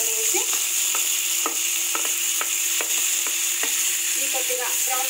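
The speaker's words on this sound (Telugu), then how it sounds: "ఈ కొద్దిగా బ్రౌన్ కలర్ వచ్చేంత వరకు వేయించుకున్నా ఉల్లిపాయలు" Onions fry in a pan for egg curry, giving a constant steady sizzle while a spatula scrapes and stirs them in regular, evenly spaced strokes, close and clear with no talking.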